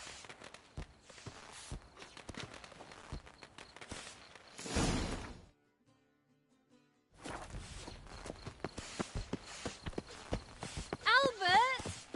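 Horse hooves clip-clop steadily in The Witcher 3 video game under talk, with a whoosh partway through, a brief near-silent gap, then the hoofbeats resuming.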